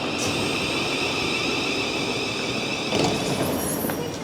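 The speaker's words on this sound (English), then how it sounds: "Oh, it's coming in actually right now. Train to Blackfriars." A train to Blackfriars pulling into Swanley station, a continuous loud rumble with high whining and squealing tones, rising briefly near the end as it draws in.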